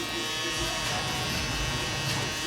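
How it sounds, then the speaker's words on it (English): A single-foil electric shaver buzzes steadily and close while shaping a haircut fade, a constant droning hum under a voice speaking. "Use the shaver."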